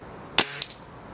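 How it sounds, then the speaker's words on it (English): A single sharp crack of an HW97 air rifle firing at a 25-meter range, loud and close, with a faint secondary tick just after, then quiet. "I'm going to be shooting this gun at 25 meters for quite a while till I can get used to it."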